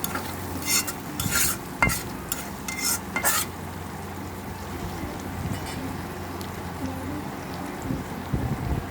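Potato and eggplant chunks frying with onion in a pan over a gas stove, with a few sharp scraping stirs early on and then a steady soft sizzle that stays close and moderately loud, with no talk.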